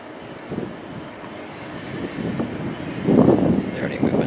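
Railroad yard engines, with BNSF and Norfolk Southern locomotives such as an SD70 standard cab around Lubbock, rumble low and steady at a distance, slowly swelling louder under outdoor wind noise.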